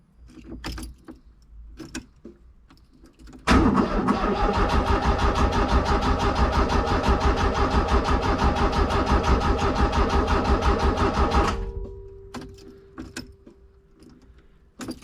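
A fuel-injected car engine cranks and fires for the first time after two years standing, after faint clicks of a key; it runs loudly and steadily for about eight seconds, then cuts out, with no talk.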